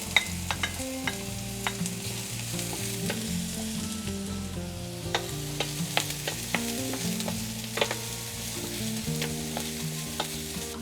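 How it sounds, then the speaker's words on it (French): Garlic, scallion whites, carrots and mushrooms stir-fry in a hot pan for Cantonese fried rice, with a constant close sizzle and repeated scraping clicks of a spatula, no voices. "je vais revenir l'ail et le blanc de la ciboulette, les carottes, ensuite les champignons."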